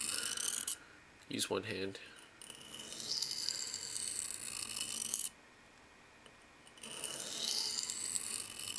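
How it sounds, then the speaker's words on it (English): A folding knife is sharpened on a stone, with repeated raspy scraping strokes of fairly even loudness running through most of the clip, broken by a short pause and a brief spoken phrase. "when I'm using a small knife or sharpening a small knife"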